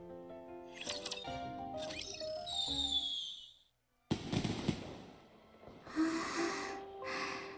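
Fireworks burst during a festival scene in Goddess of Victory: Nikke, with sharp pops and crackling bursts at uneven intervals, mixed with soft music tones and breathy sounds, moderately loud with a brief silent gap midway.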